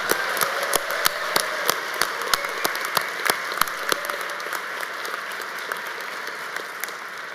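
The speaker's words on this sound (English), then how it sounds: "A round of applause for these individuals." Graduation-ceremony audience applauding at moderate distance, a steady bed of many hands with sharper individual claps popping out near the front, the ovation gradually thinning toward the end.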